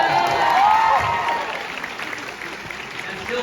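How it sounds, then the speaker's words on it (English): Audience applause at a TV festival interview panel, a broad steady wash of clapping that swells early and then continues at a moderate level throughout. "I don't know why people are applauding."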